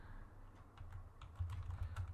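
Computer keyboard typing while entering an SSH configuration command on Cisco networking equipment, a quiet run of soft, irregular keystrokes over a low steady hum, no voices.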